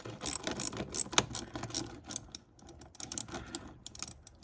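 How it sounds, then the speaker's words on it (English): A hose clamp is loosened with a 3/8-inch ratchet and 10mm socket while a throttle body spacer is installed, making quiet, close ratcheting clicks and small metallic handling noises. "So first we're going to be removing this hose clamp."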